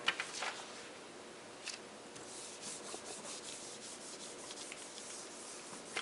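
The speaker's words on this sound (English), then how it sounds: "Now I'm rubbing harder this time because I do want to get the paint down in the stencil." Paint being rubbed firmly through a thick stencil, a steady dry scrubbing and sanding-like friction with repeated strokes, close and fairly quiet throughout.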